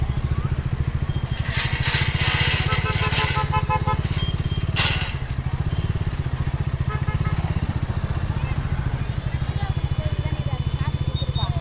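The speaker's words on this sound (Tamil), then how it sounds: "பைக் உள்ளே விட்டுருவோம்." A motorcycle engine runs loud and close with a steady throbbing idle and ride into temple grounds, with brief clattering and crowd noise over it.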